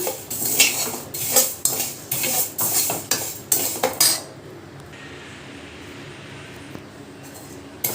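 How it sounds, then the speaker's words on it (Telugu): Vermicelli being dry-roasted for semiya upma and stirred in a hot pan, with a rapid series of metal scrapes and clinks against the pan for about four seconds, then a quieter stretch of faint background noise. "ఇప్పుడు మనం ఈ సేమియాలు వేపుకుందాం"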